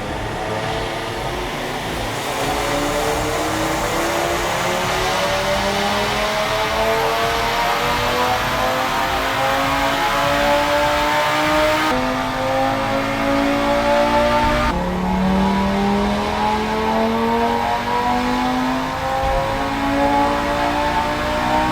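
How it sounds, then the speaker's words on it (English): A stage 3 hybrid-turbo Audi RS3 (APR TT 700 build, about 600 hp) revs hard on a dyno during a calibration run, its loud engine note climbing through repeated gear pulls with no one talking. "now we've got the vehicle on the dyno. We're going to just run through the calibration"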